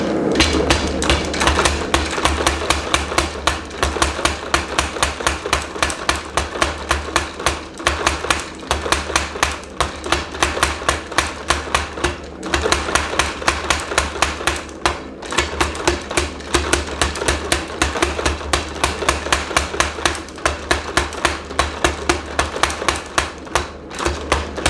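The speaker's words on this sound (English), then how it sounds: "Now I'm going to use a power hammer to fuller some spots down." Blacksmith's power hammer fullering steel in a shop, rapid loud mechanical blows striking in a continuous steady rhythm with a low motor hum underneath, only brief slight dips in pace.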